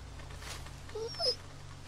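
A dog in The Walking Dead Season 2 video game lets out a few faint, short high whimpers in quick succession over a quiet low background hum.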